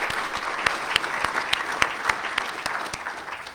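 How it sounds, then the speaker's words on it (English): Audience applause at a nursing school white coat ceremony: a warm, continuous clapping from a large crowd with sharp individual claps standing out, lasting a few seconds and fading slightly at the end. "can we give those people, please, a round of applause for their help?"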